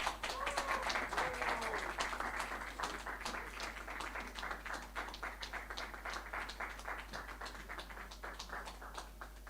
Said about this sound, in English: With a thunderous applause